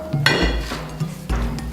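A spoon clanks and scrapes against an old saucepan while roux for a brown chicken stew is stirred over moderate heat, two or three close metallic knocks with a brief ringing tone between them.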